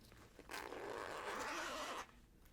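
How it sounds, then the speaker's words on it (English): A zipper on a bag or clothing is pulled in one continuous scrape of about a second and a half, fairly quiet and close, with no talk over it. "Sorry for the zipper noise."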